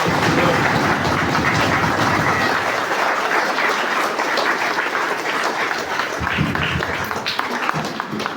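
Applause from the congregation at a Christmas Eve night mass in Pukara, a dense, steady clatter of clapping filling the church that thins slightly toward the end.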